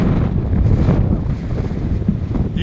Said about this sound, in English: they're like surf quality waves